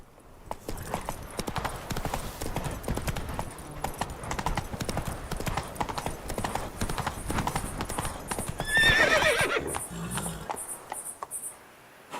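Roach, a horse in the video game The Witcher 3, gallops with steady rapid hoof clip-clops over continuous game ambience and insect chirps, with a whinny-like burst near the end.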